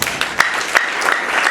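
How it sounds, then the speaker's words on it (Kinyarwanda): Applause from a congregation at a church wedding service for the couple Evelyne and Samuel, a steady patter of clapping with a few sharper peaks, moderately close and without talk over it. "Dukomere Imana amashyi."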